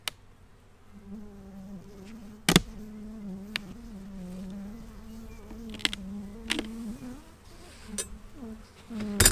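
Honeybees from an opened hive buzz angrily in a dense, steady drone close by, with a few sharp knocks and clicks breaking through as the crown board is pried loose with a hive tool.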